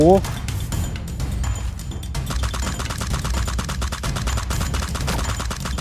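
A sniper rifle fires in a video game. A quick run of loud, sharp shots in rapid succession rings out under excited talk.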